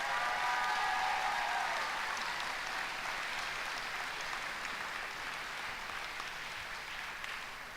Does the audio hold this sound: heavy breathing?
no